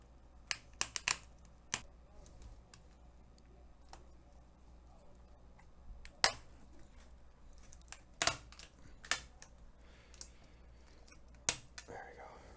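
A keyboard is pried and torn out of a 16-inch M1 Pro MacBook Pro (A2485), giving sharp scattered snaps, clicks and cracks over a quiet background, with soft whispered speech at times.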